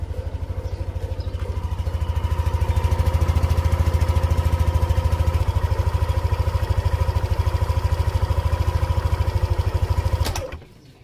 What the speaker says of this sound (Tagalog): Napaka-smooth ng makina.